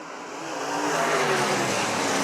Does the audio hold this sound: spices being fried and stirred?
no